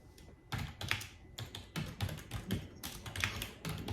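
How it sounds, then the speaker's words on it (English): Rapid typing on a computer keyboard, close and clear, with irregular bursts of key clicks and brief pauses, no talking. "even type it in."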